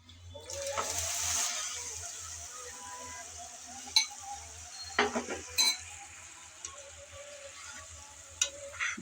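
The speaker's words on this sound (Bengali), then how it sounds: "এখন দিয়ে দেব আগে থেকে সিদ্ধ করে রাখা ডাল" Boiled lentils tip into a pan of fried spices, a soft hissing sizzle rising and fading, then scattered spatula clacks and scrapes against the pot at a quiet distance.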